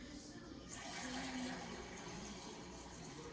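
Water pours steadily from a tap into a container for a doubled batch of sourdough bread dough, a continuous rushing hiss that holds even and fairly loud for the whole stretch.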